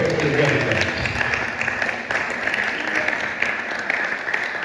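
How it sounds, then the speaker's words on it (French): A church congregation at a Sunday service applauds in acclaim of the Lord, a loud, sustained wash of clapping from many hands filling the room. "On acclame le Seigneur."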